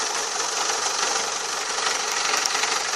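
A Renault Megane 2 engine knocks after a clutch replacement, a steady close idling drone with rapid rattling and vibration running throughout.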